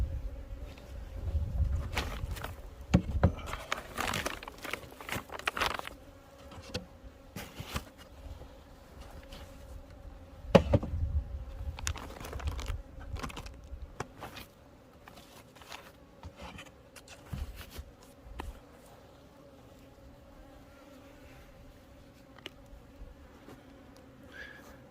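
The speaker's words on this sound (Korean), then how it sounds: "이 벌통은 이제 동양종 꿀벌의 집이 된 겁니다" Asian honeybees buzz continuously around a hive, with a steady drone and scattered louder bursts as individual insects fly close, then settling somewhat quieter.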